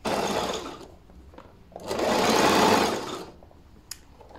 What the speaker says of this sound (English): sew a straight line just close to the zipper plastic edge